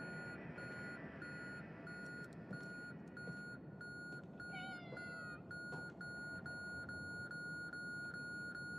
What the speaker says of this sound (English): I hear it meowing, but I can't pet it!